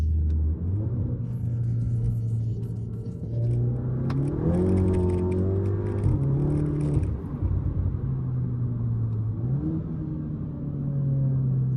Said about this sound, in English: I'm going to accelerate here so you can hear what my car sounds like with all the windows closed